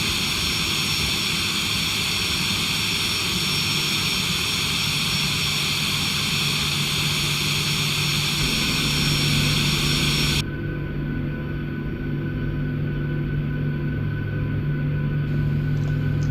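Number 1 aircraft engine starting up in the X-Plane 12 flight simulator, a continuous whine and droning hum that holds steady, then shifts in tone partway through as the start progresses.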